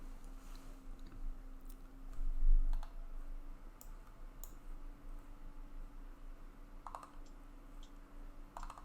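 Quiet clicks of a computer keyboard and mouse, scattered and faint over a low steady hum, with no voices.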